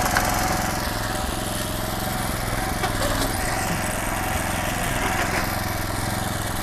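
A Kaskad walk-behind tractor engine runs steadily in gear, a loud, close, continuous mower-like chugging with a throbbing low rumble that holds even throughout.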